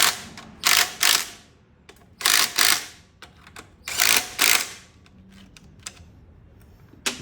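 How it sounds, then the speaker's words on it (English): A small impact wrench torques the bolts on a 2008 Buick Enclave during transmission work, firing in short, loud, close rattling bursts, usually two at a time, with quiet gaps between them. "So I'm just gonna torque this, all of the bolts with this little impact."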